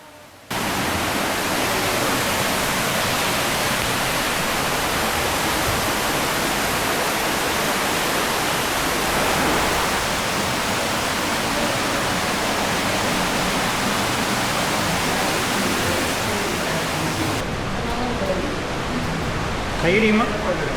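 A small waterfall inside Niagara Cave produces a constant, loud, broadband rush of falling water that fills the space evenly and continues unbroken, with voices faintly beneath it.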